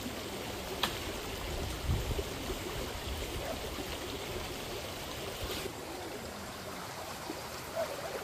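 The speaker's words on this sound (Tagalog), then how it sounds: "Ganda ng tunog ng tubig pa, no?" A mountain stream on Mount Canlaon flows with a steady, soft rushing and trickling, continuous and moderately distant, with a few faint knocks and no speech.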